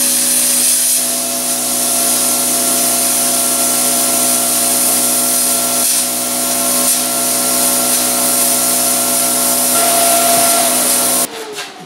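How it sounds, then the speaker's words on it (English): A 110 plasma cutter cuts metal for a homemade firepit wood stove, giving a loud, continuous close hiss with a steady hum that runs nearly twelve seconds before cutting off abruptly. "a little while back I bought a 110 plasma cutter. I've only used it a couple of times, but that's what I'm going to try to use to cut this out with"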